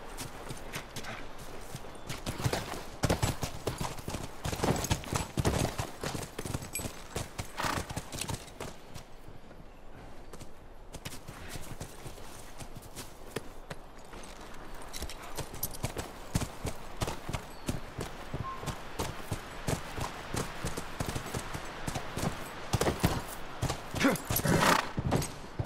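Horse hooves clip-clop steadily on the ground in The Last of Us, a continuous rhythmic walking gait that runs throughout, close and fairly loud, with occasional rustling alongside.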